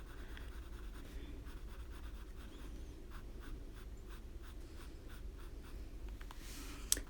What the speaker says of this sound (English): I am working with my polychromos pencils.